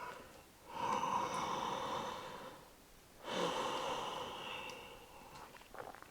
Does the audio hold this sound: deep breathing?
yes